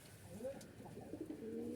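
Jalali pigeons softly coo in low, rolling calls at a coop where birds sit on eggs, faint and somewhat distant against quiet background noise.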